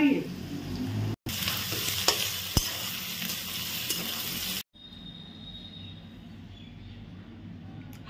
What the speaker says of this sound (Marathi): आता आपण हा कांदा टोमॅटो अद्रक हे ना हे तेलामध्ये ना चांगलं भाजून घेऊ